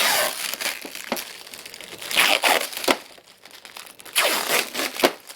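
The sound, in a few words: peeling protective plastic film off a new printer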